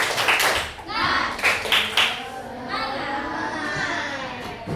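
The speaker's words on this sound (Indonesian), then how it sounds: "Tepuk semangat" Classroom students perform a rhythmic 'tepuk semangat' spirit clap, several sharp group claps in a patterned beat, followed by voices of the class chanting together.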